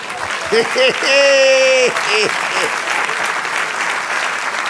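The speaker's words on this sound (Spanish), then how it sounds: "Denle un aplauso al Señor." A church congregation applauds in a broad, steady wash of clapping while a loud voice shouts over the start.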